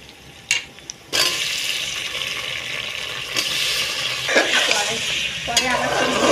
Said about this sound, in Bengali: তার জন্য একটু পেঁয়াজ আর কাঁচা লঙ্কা তেলেতে ভেজে আলুগুলো দিয়ে দেব।